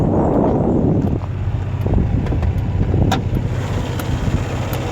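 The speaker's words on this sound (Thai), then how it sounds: "เครื่องเดินเบาเรียบเลยครับ" A 1987 Honda Civic EA engine idles steadily at close range, a low even rumble with some wind noise over the microphone.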